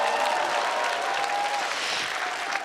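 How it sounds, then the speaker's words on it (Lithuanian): A studio audience at a children's TV show breaks into sustained, dense applause, loud and close, with no voices over it. "Nu nepagailėkim šitoje vietoje dar biskį audringų plojimų."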